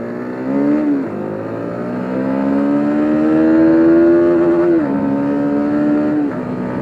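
A 2021 Honda Supra GTR motorcycle engine revved hard to its limiter, loud and close, rising and holding a high buzzing pitch in several long sustained pulls with brief dips between them.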